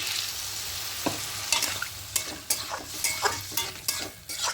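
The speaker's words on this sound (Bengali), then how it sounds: "হালকা একটু নাড়াচাড়া করে নেব পোস্তর কাঁচা গন্ধটা একটু চলে যাওয়া পর্যন্ত" Poppy seed paste with cauliflower and potato sizzles in a pan as a spoon stirs it, making a soft continuous frying hiss broken by repeated scraping strokes in an irregular rhythm, close by and with no voices.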